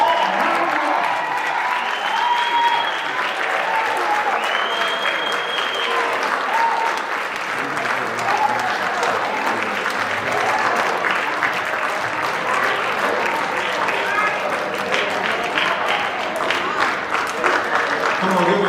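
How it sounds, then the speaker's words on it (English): An audience at a Black History Month celebration claps loudly and steadily for nearly twenty seconds, a dense sustained wave of applause with crowd murmur. "give another round of applause"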